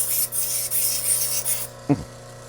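A rock dome being polished on a lapidary wheel gives a steady, close abrasive whir and rub that comes in repeated passes, then stops, followed by a short thump.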